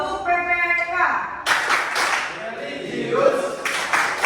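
A class of students claps together in a rhythmic chant, sharp group claps breaking in over a teacher's voice and the children's chanting in a classroom.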